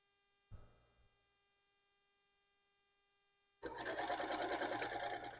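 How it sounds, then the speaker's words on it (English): After a couple of quiet clicks, a sewing machine starts stitching quilt fabric pieces trimmed with pineapple rulers, running at a fast, even, continuous pace for the last couple of seconds over a faint electrical hum. "So let me switch to the sewing machine."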